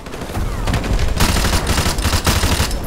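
Heavy gunfire is aimed at a balcony in Modern Warfare Remastered, loud, dense rapid bursts of shots and crackling volleys overlapping continuously, with no speech.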